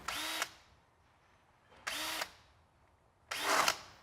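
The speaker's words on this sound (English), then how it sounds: "we're going to remove the tape and we're going to chamfer the holes slightly" A power drill chamfers pre-drilled holes in a boat's gel coat during a trim tab installation, giving three short, loud whirring bursts with quiet pauses between them and no voices.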